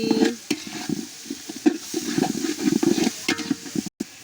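Food with tomato sauce is mixed in a pan over a village clay stove: rhythmic scraping and stirring strokes repeat over a sizzling background, close and fairly loud, with a brief pause just before the end.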